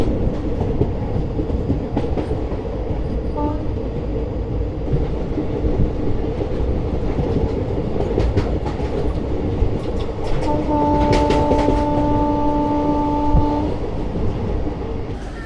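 Inside the Howrah Chakradharpur Express from Kolkata to Purulia at night, a constant heavy rumble and rhythmic wheel clatter fill the carriage, with a long sustained horn tone sounding toward the end.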